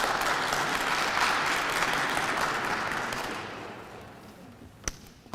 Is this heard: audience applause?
yes